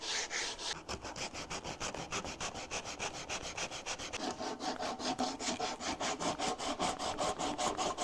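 Steady rhythmic sanding of wood, a rasping back-and-forth scrape repeating quickly and close up, with no voices.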